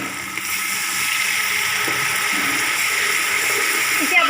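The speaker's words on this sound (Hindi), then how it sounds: "थोड़ा सा पानी शामिल करेंगे।" Water poured into a pan of frying spices (turmeric, crushed red chilli, white cumin, curry leaves) for aloo pulao, giving a steady broadband sizzle and hiss that runs evenly throughout without pause.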